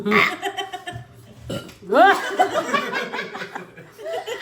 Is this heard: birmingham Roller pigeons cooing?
no